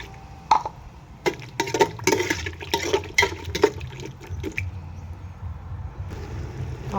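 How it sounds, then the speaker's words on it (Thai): Water poured into a cooking pot of boiled bones for a bamboo-shoot curry, a splashing, gurgling pour in uneven close bursts that trails off into quieter trickling. "เอาน้ำลงไป"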